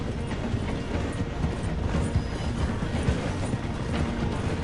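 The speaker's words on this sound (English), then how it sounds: "The train is slowing down to go through the station." Train in a video game slowing as it passes through a station, a steady low rumble with rhythmic clacking of wheels over the rails, continuous and fairly loud with no voices.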